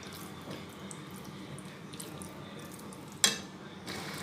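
Minced meat for tikka keema stirred in a hot pan on a high flame: a low, steady sizzle with soft scraping and spoon movements and one sharp clatter near the end, heard close and quiet.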